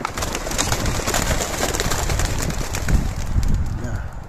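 Pigeons coo and flutter outdoors after being released during racing-pigeon training, soft bird calls mixed with a continuous rustling, windy background over a few seconds.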